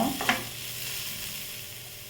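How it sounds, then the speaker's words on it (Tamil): Onion sautéing until golden in a pan for cassava bonda, a steady close sizzle with a brief stir at the start, then an even frying hiss that cuts off abruptly. "நமக்கு வெங்காயம் பொன்னிறமாக வதங்கிருச்சு"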